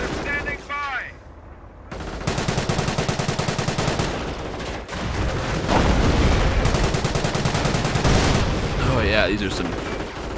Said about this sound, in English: these are some A1 shots with the Panzer Shreks